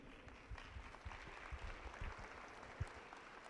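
Applause from an audience at a talk on democracy in Michoacán, Mexico: steady crowd clapping, moderately distant and fairly soft, running throughout.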